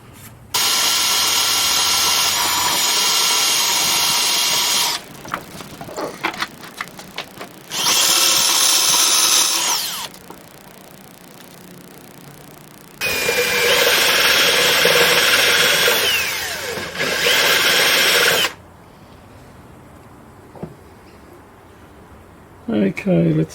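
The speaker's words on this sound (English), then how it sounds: "I'll just get a centre drill and a drill." A centre drill cuts metal on a homemade Gingery milling machine, sounding as three long loud whining bursts separated by quieter stretches of handling and clatter.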